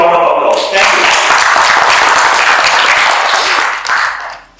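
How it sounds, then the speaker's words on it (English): A loud wash of audience applause at the FPSI fluid power CEO conclave 2024 swells right after a speaker's voice, sustained and full before tapering off abruptly, with talk faintly mixed in. "You deserve a big round of applause"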